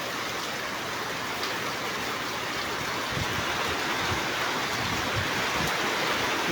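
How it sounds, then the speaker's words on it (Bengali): Heavy rain pours steadily at a fish market in Tabalchhari bazaar, with running water adding to a dense, continuous wash of noise that stays loud and even throughout. "কি জুড়ে জুড়ে বৃষ্টি হইতেছে"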